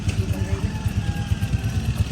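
A motorcycle engine idles close by in a steady, loud chugging pulse with a faint mechanical clatter, running on its own without any talking over it.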